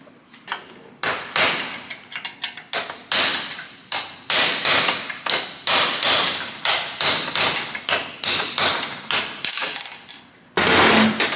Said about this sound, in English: I'm gonna hit it with the hammer, facing each other, both sides